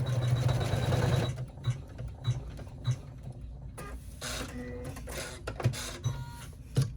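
An embroidery machine stitches an in-the-hoop foldover wallet: a dense, fast mechanical whirr for about a second, then scattered clicks and light thumps as the needle and hoop move in short bursts.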